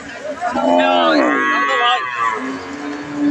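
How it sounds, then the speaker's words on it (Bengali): A young cow at Ambari village cattle market, among lean desi and Sahiwal dairy cows, lets out one loud, drawn-out moo with a rising and falling pitch that lasts about two seconds, over faint market background noise. "এটা জোয়ান গরু"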